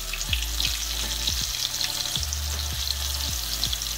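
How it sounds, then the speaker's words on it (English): Flour-coated shrimp fry in hot grease, Southern style, a loud continuous close crackling sizzle with a few low thumps, no voices. "Turn the camera around and we'll start frying. Okay, my grease is hot."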